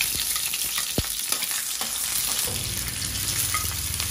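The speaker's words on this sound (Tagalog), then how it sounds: "Tayo ay magigisa muna ng ating mga gulay. Bawang sibuyas." Garlic and onion sauté in a hot pan with a steady, close sizzle and occasional sharp clinks of a utensil stirring, no voices.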